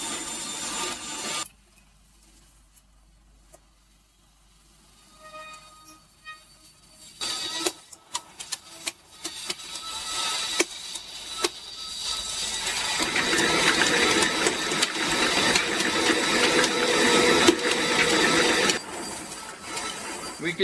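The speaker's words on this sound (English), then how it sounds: "we're going to speed up the movement a bit, and we're going to let it run like this until the dough starts to pull away from the mixer" A stand mixer kneads long-fermentation bread dough at an increased speed, starting near silent and then building into a loud, steady motorized whir with irregular thumps and knocks as the dough slaps around the bowl.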